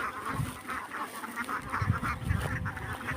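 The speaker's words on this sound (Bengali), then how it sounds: "হাঁসের জাত মূলত ক্যাম্বল বলা হয় এটাকে" Khaki Campbell ducks on a farm quack and honk steadily. A dense, overlapping flock chatter of repeated nasal calls runs without pause at moderate loudness.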